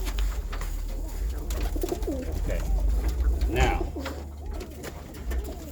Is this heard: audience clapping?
no